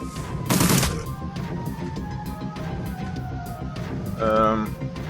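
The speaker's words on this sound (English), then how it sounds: "I changed to the shotgun and give him a kneecapped shot." A shotgun blast from the Shadowrun: Dragonfall video game bursts out near the start amid game sound effects and background noise, with a second louder tonal hit later on.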